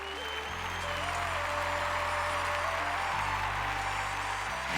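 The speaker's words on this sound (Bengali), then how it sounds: "যতীন ললিতজির জন্য একটা জোরে হাততালি হয়ে যাক।" A studio audience at a Bengali televised singing competition bursts into loud, sustained applause, steady and dense across the whole stretch, with music playing underneath.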